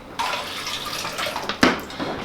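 Water poured from a measure into a blender jug for a protein shake with ice and frozen strawberries; a short splashing pour with a brief louder gush near the end, close and alone.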